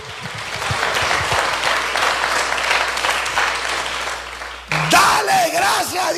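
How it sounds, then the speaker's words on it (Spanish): Dense, loud audience applause fills a church gathering for several seconds, joined by cheers and shouts; it cuts abruptly into an amplified voice talking over the crowd near the end. "Si le va a dar un aplauso, dásela fuerte ahí."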